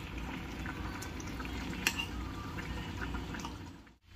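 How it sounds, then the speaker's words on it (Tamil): A gentle, steady bubbling and simmering of thick egg masala in a pan, with faint scraping of a spoon stirring it, ending abruptly. "இதை திருப்பி விட்டுக்கலாம்."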